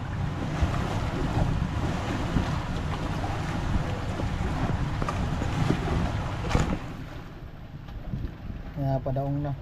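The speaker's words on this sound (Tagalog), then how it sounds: "Mabilis talaga yung motor na yan." A fast motorboat running on the sea off Burias Island, its engine a constant droning rumble mixed with wind buffeting the microphone and splashing water, with brief voices near the end.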